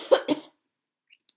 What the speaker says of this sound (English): just a cough, not COVID.